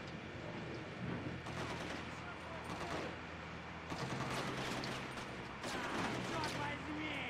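Rapid bursts of gunfire in the video game The Getaway: Black Monday, dense and continuous like a fusillade, with no talk over it.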